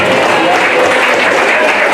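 Applause from a seated audience of men and women at a school principal farewell ceremony, a dense steady wash of clapping, loud and continuous.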